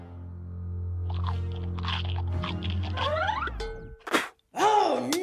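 A cartoon frog chief takes food and chews it, making crunching and biting sounds with springy, comic tonal effects, a short sharp gap, then a rising cartoon flourish.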